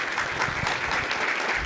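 An audience at a seminar claps steadily, a dense even patter of applause with no pauses.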